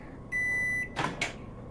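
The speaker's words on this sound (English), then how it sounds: "Microwave." A microwave oven runs in the video game Job Simulator, giving a steady electronic hum for about half a second. Two short clicking, chiming blips follow, with no talk over it.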